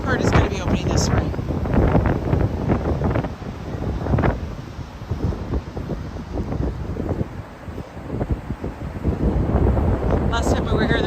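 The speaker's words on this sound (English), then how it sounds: "Oh my God, the wind is killing me." Strong gusting wind buffets the microphone on the elevated High Line walkway in Manhattan, a loud, continuous roar with rumbling surges that drowns out almost everything else.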